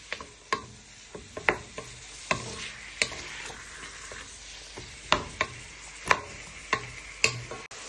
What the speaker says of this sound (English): So we're just sweating down our onion, garlic and peppers.